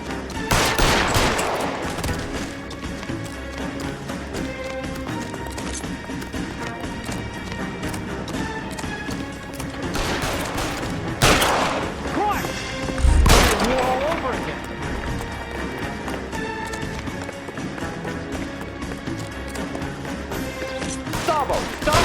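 Gunshots ring out in a shootout in the video game L.A. Noire, with sharp bangs and a louder crack near the end, amid a continuous mix of voices and dramatic music.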